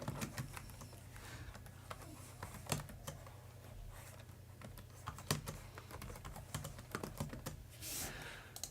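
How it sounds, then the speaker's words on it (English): Rapid, uneven clatter of keys being typed on a computer keyboard while a new Raspberry Pi 5 is set up, with sharper key strikes standing out over a steady low hum, no talking. "We need to type it out."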